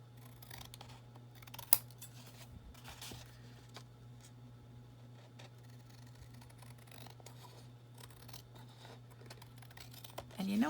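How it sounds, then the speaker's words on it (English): Scissors trimming the rough edges of a handmade card, a few quiet close snips with a sharper cut near the start, over a faint steady background hum. "I'm gonna trim off the edges really quick because those are kind of rough"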